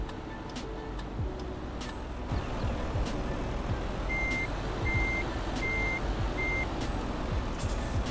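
A work truck at a public-works site with a Mecalac 714MCE and JCB 4CX backhoe loader reverses, its backup alarm giving a steady series of evenly spaced beeps over a continuous engine rumble.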